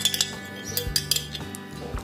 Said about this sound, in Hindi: अच्छी तरह से मिक्स कर लीजिए।